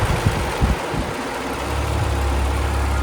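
A 1993 Mazda 323 fitted with a swapped 2.5-liter V6 KLZE engine idles steadily, a low, even rumble that holds close and constant, rising slightly in fullness after the first second.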